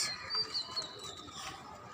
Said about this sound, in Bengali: এদিকে আছে কবুতর খাবার খাচ্ছে